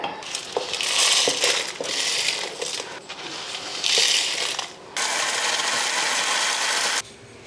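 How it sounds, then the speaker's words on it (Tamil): A mixer grinder jar powders roasted mutton masala spices with a loud, close, crunchy rattling whir that runs in pulses, briefly stops, then restarts as a steadier whine before cutting off. "நான் மிக்சி ஜாரில் போட்டு தான் பவுட்ரு பண்ண போகிறேன்"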